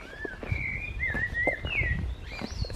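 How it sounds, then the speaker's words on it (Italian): Blackbirds give thin, high gliding calls outdoors along a dirt path, a string of wavering whistles against soft background rustle and low noise, moderately near with no talking. "Sentite i merli, se non sbaglio, questo grido che si sente"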